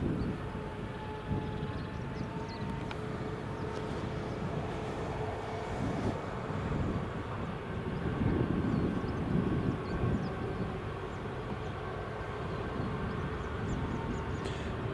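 Small WestJet airliner passing at Edinburgh Airport in the early morning, a steady broad engine roar that swells gently midway and holds at moderate distance throughout, with no voices.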